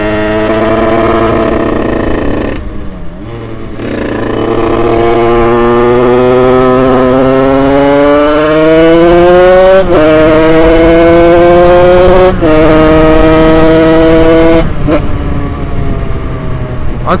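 A Yamaha DT 50cc two-stroke dirt bike with a top-end aluminium kit and a suspected fault revs up loud and close, its buzzing pitch climbing and dipping through several throttle blips over a steady idle.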